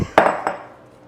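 Sliced potatoes dumped into a baking dish for scalloped potatoes, two sharp clattering knocks against the dish that ring briefly and fade.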